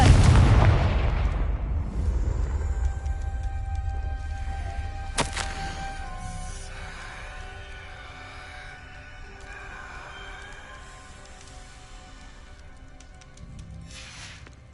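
Confringo fire spell blasting in the Hogwarts Legacy video game: a loud, booming explosion up front with a sharp crack a few seconds later, its rumble and debris slowly fading away with no voices.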